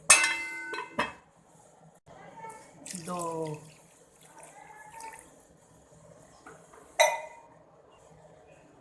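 Water poured from glasses into a cooking pot for vegetable pulao, several short splashing pours with clinks of a glass against the metal rim, fairly close, alternating with a voice speaking.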